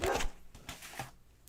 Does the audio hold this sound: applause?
no